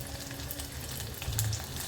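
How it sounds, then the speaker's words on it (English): Sambar onions sauté in a pan for a Palakkad-style dish, giving off a steady close sizzle and crackle of frying with no talk over it. "So let the onions, saute a little bit and cook."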